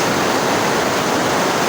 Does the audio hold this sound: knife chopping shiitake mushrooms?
no